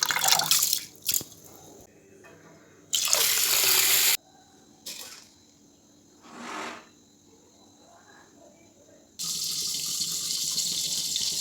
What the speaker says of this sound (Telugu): రెండు కలిపి కడిగి 10 నిమిషాలు నానబెట్టుకోవాలి